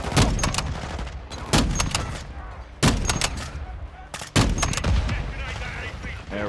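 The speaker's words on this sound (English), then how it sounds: "you're given a 50 cal and a grenade launcher that you can use to great effect" Heavy .50 cal machine gun and grenade launcher fire in the Call of Duty: Modern Warfare II campaign, four loud blasts a second or so apart, each followed by a rumbling battle din.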